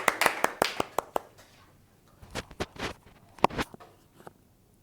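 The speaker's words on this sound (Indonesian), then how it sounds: "Tepuk tangan dulu buat Rida" A few pairs of hands clap sparsely in a classroom for a student named Rida, with sharp, uneven claps in two short bursts and quiet gaps between them.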